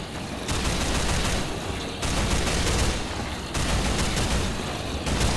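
An automated turret in the Minecraft Techguns mod fires nonstop at mobs, loud rapid gunfire in long bursts with short gaps between them.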